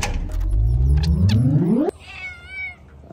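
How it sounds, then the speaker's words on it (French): A small cat lets out a long, loud, rising meow that breaks off suddenly, followed by fainter chirpy calls in the background, heard in a Marrakech palace setting. "Un petit chat."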